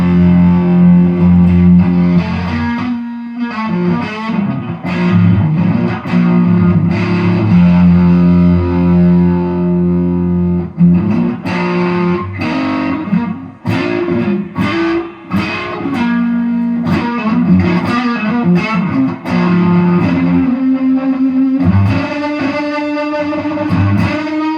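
Electric guitar through a Tulpa FX Voronezh Fuzzist fuzz pedal, thick and distorted, playing loud chords and riffs with short pauses, close and alone without talk.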